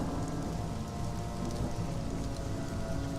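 Rain falls steadily in a thunderstorm in the video game Sunless Skies, a dense continuous hiss with a low rumbling undertone, quiet and unbroken throughout with no voices.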